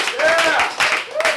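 A comedy-club audience breaks into applause with a few bursts of clapping, close and fairly loud, as a stand-up comedian speaks over it.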